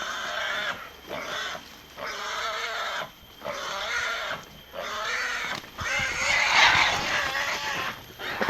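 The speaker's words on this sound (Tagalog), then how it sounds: "Sabay ingay sa baboy." Pigs squeal and grunt in a video game, with a run of repeated harsh, nasal bursts in a steady rhythm, loud and continuous with no talk.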